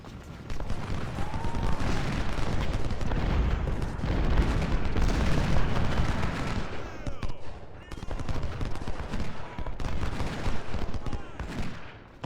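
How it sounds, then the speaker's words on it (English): 6-pounder guns fire in a video game battle, with dense, overlapping booms and rattling volleys that come continuously and loudly, easing briefly before building again. "But we want the 6-pounders firing great."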